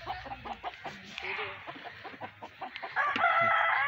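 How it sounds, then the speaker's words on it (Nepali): Kadaknath black chickens, a domestic breed kept as household poultry, clucking steadily near the microphone, with a rooster crowing loudly toward the end over the ongoing hen chatter. "यो लोकल भन्दा पनि एकदम राम्रो खालको कुखुरा रहेछ"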